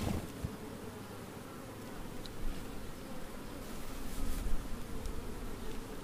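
Honey bees buzzing around an open hive during queen raising, a steady soft drone with a few louder passes of individual bees close by, no talking.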